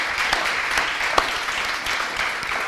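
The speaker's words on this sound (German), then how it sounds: "bitte um nochmal einen großen Applaus" Sustained applause from a seated, masked evening audience at a German stage event, dense steady clapping filling the room with a few sharper individual claps standing out.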